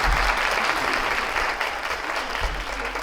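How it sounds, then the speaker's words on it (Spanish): Sustained applause from a seminar audience on gender-equal communication, steady dense clapping throughout at fairly close range, with no talking over it. "Vamos a devolver el aplauso."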